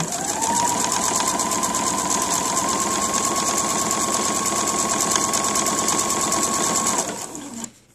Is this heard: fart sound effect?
no